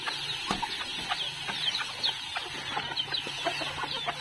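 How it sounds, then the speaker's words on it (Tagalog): Chickens and chicks cluck and peep near a goat pen while being given feed, with repeated short clucks and chirps over a steady low hum. The sounds are moderately close and carry on without any speech. "magbigay tayo ng pagkain ng mga sisiw"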